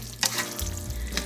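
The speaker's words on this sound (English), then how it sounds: "we're just going to stir this up" Green peppers are stirred in a hot pan, a short burst of sizzling with a scrape or two of the utensil, close and clear.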